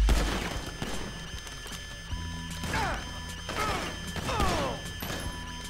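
Gunfire in Grand Theft Auto 5 crackles in scattered bursts amid crashing impacts and mechanical clatter, moderately loud and busy, with whining sweeps mixed through the action.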